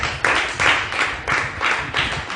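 A church congregation clapping for Jesus, a rhythmic series of about six loud, even claps in steady tempo.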